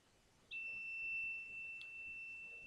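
A NodeMCU gas sensor circuit's buzzer lets out one sustained, clear electronic tone that starts abruptly and holds steadily over faint room noise.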